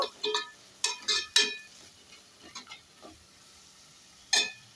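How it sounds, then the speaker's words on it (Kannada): Spoon scraping and stirring tomato pickle with salt and chili powder in a pan, a few short close bursts of stirring with pauses between them and no talking. "ಚೆನ್ನಾಗಿ ಮಿಕ್ಸ್ ಮಾಡ್ಕೊಳ್ಳೋಣ."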